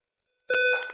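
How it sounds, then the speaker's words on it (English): An apartment fire alarm sounds after a half-second of silence, a single sharp electronic beep with a bright tonal ring that fades slightly, nearby and loud. "my fire alarm is just going off. So it's just the apartment fire alarm. So if you hear a beeping"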